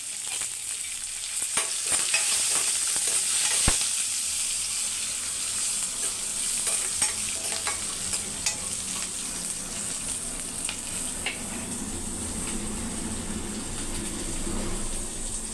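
Curry leaves and green chillies frying in a hot pan give a steady, loud crackling sizzle that runs unbroken the whole time, with a few sharp pops and faint stirring clicks.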